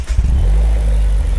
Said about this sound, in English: you hear a very nice ignition motor sound